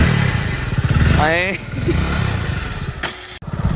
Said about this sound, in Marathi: फायनली सायलेन्सर तर बदलला